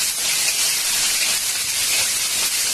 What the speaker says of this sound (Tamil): பொன்னிறமாக வறுத்த பிறகு கருவேப்பிலை, காய்ந்த மிளகாய் போட்டு நல்லா வதக்கணும்.